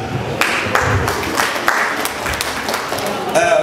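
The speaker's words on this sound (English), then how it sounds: "Let's clap for our external auditor again" An audience at a microfinance bank's annual general meeting claps for the external auditor, a loud but brief burst of applause with distinct individual claps, with voices talking over it toward the end.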